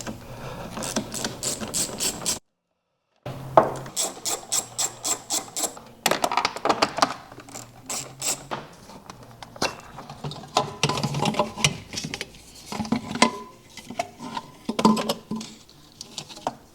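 A wrench working a battery terminal on a Golf 4 1.9 TDI PD: repeated quick metallic ratcheting clicks in short bursts, close and fairly faint, with brief pauses between strokes.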